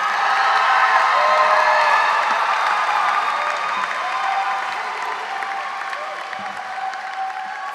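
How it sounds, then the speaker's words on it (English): An audience at a 2018 Eugene Lang College graduation recognition ceremony applauds with scattered cheers, a dense sustained wash of clapping filling a large hall that eases slightly over time. "Let's give a warm round of applause for all of you, your 2018 Eugene Lang College graduates."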